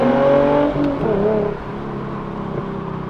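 A Hyundai Genesis 3.8 Ultimate engine revs close by while driving, its pitch climbing and then falling before it settles into a steadier, quieter drone.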